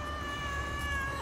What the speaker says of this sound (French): C'est un chat en errance.